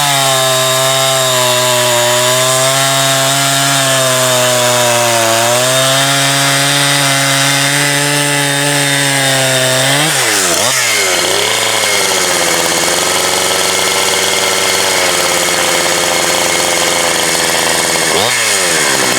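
Hot gasoline chainsaw with an aftermarket carburetor, a Farmertec 372 kit or similar pro saw, restarting and then running loud and close, rising to high revs and dropping back to idle twice.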